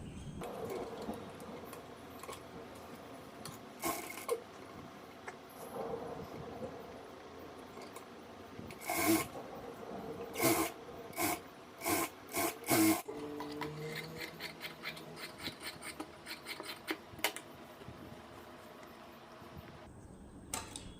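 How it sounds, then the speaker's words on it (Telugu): A sewing machine runs a finishing stitch around the edge of a coat-style top, heard as bursts of mechanical whirring and rattling that start and stop, close and moderately loud. "ఇప్పుడు దీని చుట్టూ ఫినిషింగ్ కుట్టు అనేది వేద్దాం"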